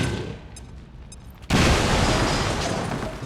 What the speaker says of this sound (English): Then we can expose it a bit more by launching a grenade with Twitchy.